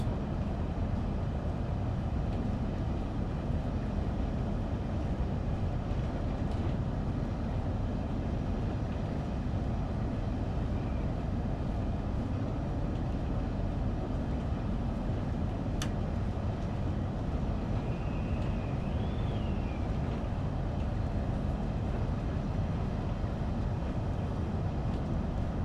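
A Southeastern high-speed train runs steadily in the Train Sim World 2 game, giving a continuous, dense rumble and drone with faint high whines above it.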